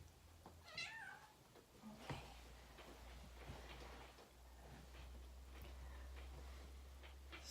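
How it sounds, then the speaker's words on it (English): A pet cat meows once, a short rising-falling call close by, during a bedroom yoga session, with faint rustling and a low steady hum around it. "my kitty is right there in the way"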